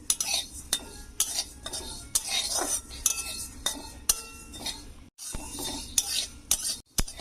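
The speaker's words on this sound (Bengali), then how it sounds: "এইভাবে নেড়ে ছেড়ে ভেজে নেবো" Masala being stirred and fried in a pan over normal heat for a vegetarian pumpkin dish, with repeated metallic scrapes and clinks of a utensil against the pan over a low sizzle.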